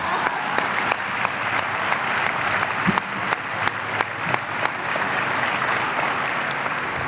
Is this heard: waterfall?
no